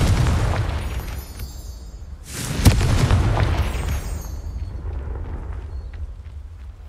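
A Confringo spell explodes in Hogwarts Legacy on PS5 with one loud, close, fiery burst that swells and crackles for about a second before fading into rumbling ambience.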